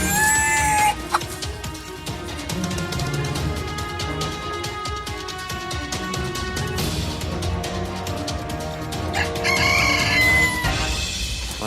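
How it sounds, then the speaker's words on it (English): Hens and young chicks in a backyard flock, loud and close, with repeated clucking, squawks and high cheeping, plus a brief crow-like call toward the end, as a hen meets the chicks. "One of the hens is meeting the chicks."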